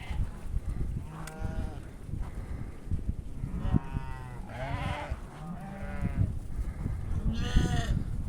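A flock of village sheep bleats repeatedly nearby, with several wavering calls overlapping against a rough outdoor background.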